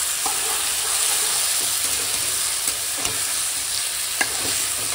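Ripe tomatoes seasoned with turmeric and salt simmer and sizzle in a pan, a steady close bubbling hiss with occasional clicks of a stirring utensil and no voices.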